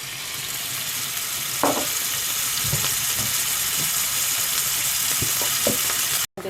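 Onion frying in oil in a small pan, a steady, close sizzle throughout with a few soft stirring scrapes, and no talking.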